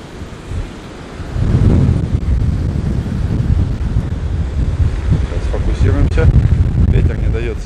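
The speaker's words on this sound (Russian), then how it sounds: "Ветер не дает снимать." Strong wind buffets the microphone at Zhemchuzhina beach in Anapa during a storm, a loud, continuous low roaring rumble with surf underneath, while someone speaks over it.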